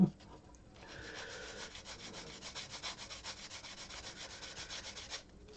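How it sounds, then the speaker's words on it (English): Steady rhythmic rubbing of a 2000 grit sanding sponge over a guitar body surface, a soft continuous scratchy swish with repeated strokes, close and fairly quiet, stopping near the end. "just using a 2000 grit sponge, just to remove any scratches that the sandpaper left behind"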